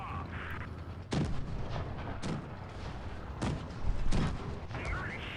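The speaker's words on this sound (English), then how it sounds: "Taking some shots from the side there." Tank cannon fire in the game WOT Blitz, with an M4A3E8 medium tank taking hits from the side: several sharp booms spaced a second or so apart over a rumbling battle background.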